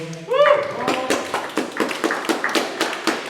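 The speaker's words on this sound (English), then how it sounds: "Come on, we can give them another round of applause" Audience clapping in a hall at a fringe comedy event, a round of hand claps in uneven rhythm, close and moderately loud, starting after a voice speaks.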